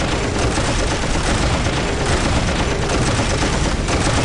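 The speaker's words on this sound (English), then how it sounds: "Taking heavy fire." Heavy gunfire in the 2004 strategy video game Warhammer 40000: Dawn of War during a Space Marines mission against xenos: dense, continuous volleys of overlapping shots and booms, loud and unbroken throughout.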